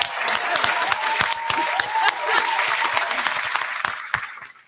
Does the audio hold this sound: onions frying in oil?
no